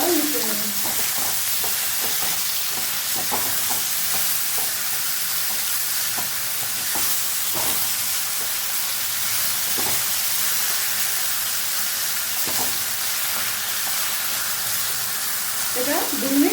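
Mushrooms and chatu being stirred in mustard oil, a steady frying sizzle with scraping spoon strokes recurring through the mix, close and continuous, with faint talk in the background.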